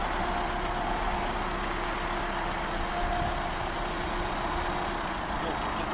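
Skoda Yeti 2.0 TDI diesel car engine running steadily as the car moves forward, a continuous low mid-range hum with faint cabin noise throughout.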